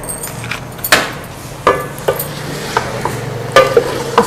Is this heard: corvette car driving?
no